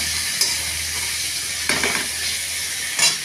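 Ginger and tomato frying in a pan, a steady broadband sizzle with a few brief stirring scrapes, close and fairly soft, no voices.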